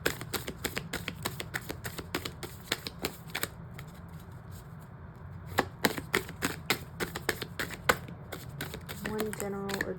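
A Moonology oracle deck is shuffled and cards are drawn, giving repeated crisp riffling taps and snaps at close range, with quieter handling between bursts.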